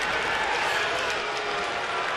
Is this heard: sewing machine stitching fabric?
no